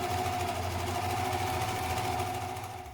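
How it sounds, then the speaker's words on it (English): An overlocker sewing the edge of shirt fabric, a steady, close mechanical whirr with a fast even vibration, running continuously before easing off slightly at the end. "So just overlock a tiny amount"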